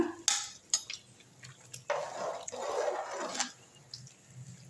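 A spoon scrapes and clinks against a pot while drained rice is stirred for meal maker veg biryani, giving a few soft, uneven bursts of scraping and shuffling at close range, quiet with no voices.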